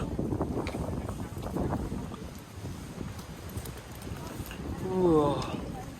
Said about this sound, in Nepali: ओ यो हावा आवाज कस्तो कस्तो चले